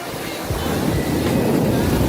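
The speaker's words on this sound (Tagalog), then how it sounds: "Galit na galit yung alon eh, oh." Ocean waves crash and surge in a continuous loud roar, with wind buffeting the microphone throughout.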